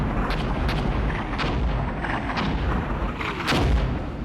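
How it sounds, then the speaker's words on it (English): Heavy artillery shells land on mortar positions in Armored Brigade 2, a dense, continuous roar of rumbling blasts and booms with sharper cracks near the end, loud and without speech. "big artillery falling on my mortars"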